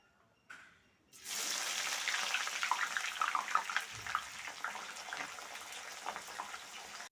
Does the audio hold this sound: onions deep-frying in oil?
yes